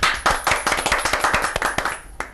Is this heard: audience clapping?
yes